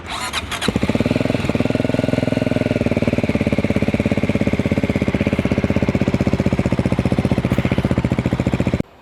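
A Voge 300 Rally motorcycle from 2025 idling while standing still, its exhaust thrumming in a steady close, loud rapid pulse after a short starting burst, running alone without talk.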